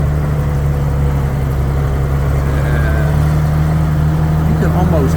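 Toyota FJ Land Cruiser engine pulling at low steady revs after the clutch is let out on a lawn, a constant close drone with a low hum throughout and a faint squeak near the end.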